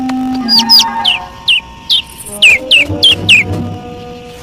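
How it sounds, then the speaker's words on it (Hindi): A small bird chirps in a quick series of about a dozen bright, sharp tweets, close and clear, with a low hum and faint background sounds beneath. "ओह, एक नन्हा सा पंछी।"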